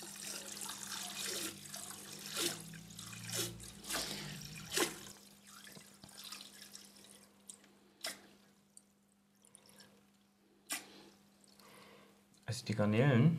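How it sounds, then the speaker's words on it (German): Water runs through a partly pinched siphon hose while aquarium sand is vacuumed out of a large 720-litre tank, giving a steady trickling and dripping flow with occasional splashes and a louder gush near the end. "jetzt halte ich den Schlauch, wie gesagt, nur ein Stück zu, dass das Wasser nicht zu schnell fließt."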